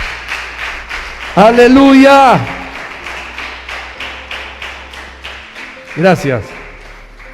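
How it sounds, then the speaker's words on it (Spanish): Church congregation clapping to give glory to the Lord, a steady rhythmic patter of hands under a loud shouted voice, with a brief spoken thanks near the end. "Si alguien le quiere dar gloria al Señor, entonces dele su aplauso fuerte"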